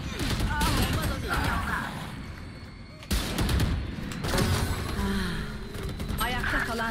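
Valorant video game gunfire with repeated rifle bursts and shots, loud and close, alongside in-game effects and a player talking over the action.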